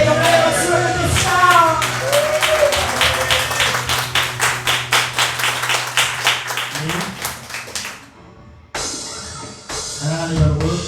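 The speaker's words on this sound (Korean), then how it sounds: "하나님께 영광의 박수를 드립시다" Congregation clapping together during a Sunday church worship service, a steady run of sharp rhythmic claps over sustained music and singing, fading into a pause before a voice resumes.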